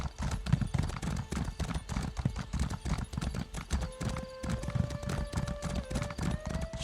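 Galloping horse hooves in the fantasy video game Elder Scrolls Online, a fast, steady clip-clop rhythm close by, with a faint sustained tone entering in the second half.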